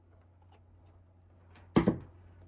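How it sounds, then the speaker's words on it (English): A single crisp snip of scissors cutting through bias tape at the sewing table, a short double-edged cut standing alone in a quiet room. "So I'm gonna go ahead and cut my bias tape at my measurement."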